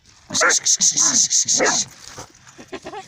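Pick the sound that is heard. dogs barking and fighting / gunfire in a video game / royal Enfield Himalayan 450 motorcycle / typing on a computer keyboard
dogs barking and fighting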